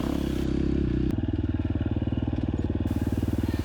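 A KTM 350 XCF dirt bike with a Rekluse Radius CX clutch climbs a rocky, rooty hill, its engine pulsing in a fast, loud, steady rhythm with a rev change partway through.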